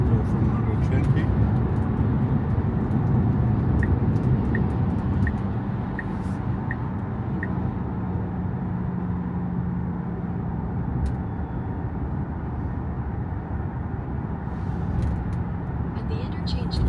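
Steady interior road and wind noise inside a 2024 Tesla Model Y Standard Range cruising at 120 km/h on a German autobahn, a constant loud broadband rumble with faint navigation chimes and voice prompts over it.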